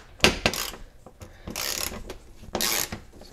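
Ratchet clicking as it loosens a 10mm bolt on the pull handle trim of a Toyota 4Runner, three short bursts of close, crisp metallic ratcheting separated by brief pauses.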